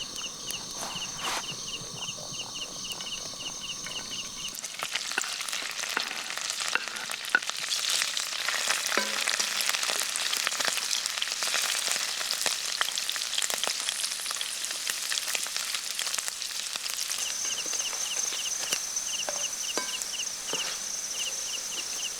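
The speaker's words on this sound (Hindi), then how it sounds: "गरम हो गया तेल, फटाफट से डाल रहा हूँ पनीर।" Paneer frying in hot oil in a pan over a campfire in gloomy forest weather, a steady close crackling sizzle that swells after a few seconds and holds loud and continuous, with scattered small clinks and no talk.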